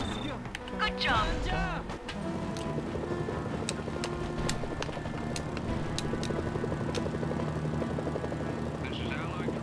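Helicopter in the video game Mercenaries: Playground of Destruction, a steady whirring rotor drone that holds for several seconds after a brief burst of game voices at the start.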